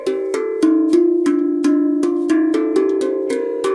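Out-of-tune notes struck on a Halo handpan, a dozen or so metallic ringing hits in a steady, fairly even rhythm, close and loud with no talking.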